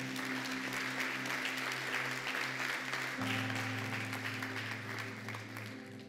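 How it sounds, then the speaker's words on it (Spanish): A church congregation applauds during a Spanish-language sermon, a dense, continuous patter of clapping layered over sustained keyboard chords that shift partway through, fading slightly toward the end. "un aplauso al Señor"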